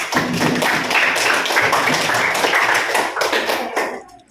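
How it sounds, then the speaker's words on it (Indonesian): Classroom applause fills the room, a dense crowd of students clapping steadily and loudly for about four seconds before it stops abruptly. "Oke, berikan aplaus dulu."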